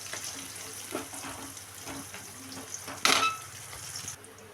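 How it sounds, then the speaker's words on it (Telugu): Green chilies and onions frying in a pan for a carrot curry, giving a steady low sizzle with scattered clinks of a stirring spoon and a brighter, louder burst of hissing partway through, no talking. "ఇప్పుడు అలా వేగినాయి కదా మిర్చి ఆనియన్"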